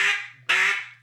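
A duck call blown twice in quick succession, each a loud, raspy, nasal quack-like blast with a strong buzzy tone, the second starting sharply and tailing off.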